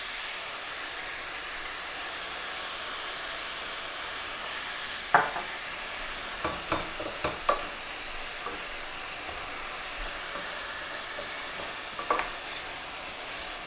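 Onions saute in a pan for chicken curry with a constant loud sizzle throughout, joined midway by a handful of sharp utensil clicks and scrapes.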